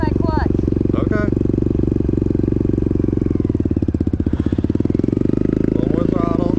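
A trail motorcycle engine runs close by with a steady, buzzing idle, then swells into a rougher pulsing rev as the throttle opens and settles again. Voices talk briefly over the engine.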